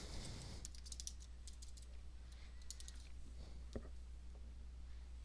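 Several quick keystrokes tap softly on a computer keyboard, faint and close over a low steady hum.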